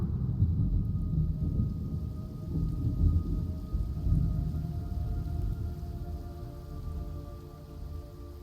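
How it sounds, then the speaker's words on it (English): Steady heavy rain pours with deep rolling thunder rumbling underneath in the video game Metal Gear Solid Delta, dense and continuous throughout with no voices. "It's raining blood."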